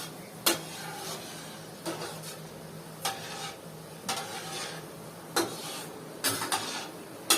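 Gulab jamun dough balls frying gently in oil on a low flame, a soft bubbling sizzle broken by periodic sharp clicks of a spoon against the pan, close by with no voices.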